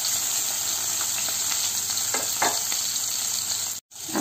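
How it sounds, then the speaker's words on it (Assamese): Small puthi and chital fish frying in a pan over low heat, a dense continuous sizzle with occasional crackles and stirring, close and loud without talk, cut off briefly near the end. "এইকেইটা কম জুইত খুব খৰখৰীয়াকৈ ভাজিব লাগিব"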